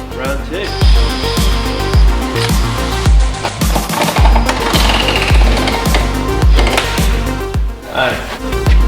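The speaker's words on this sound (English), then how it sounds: "let's get a drill and see how this goes" A drill bores through the rusted boot floor metal of a BMW E46 M3 under restoration, grinding loudly in repeated bursts with rhythmic impacts, close and dominant.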